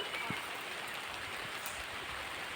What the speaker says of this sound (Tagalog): So, nag-ulan na gid siya.